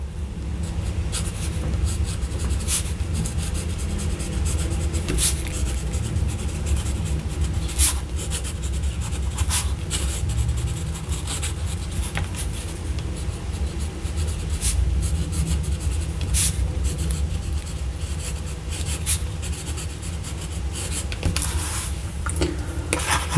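A Sailor 1911 Young fountain pen with a broad nib, inked with Pelikan Black, scratches steadily across paper in close, continuous strokes with soft rubbing texture and occasional sharper ticks, heard alone without talk.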